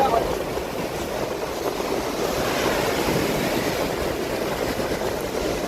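Surf washing onto the shore along a Karnataka coastline forms a steady broadband roar, continuous and fairly loud throughout, with wind buffeting the microphone and no clear talk.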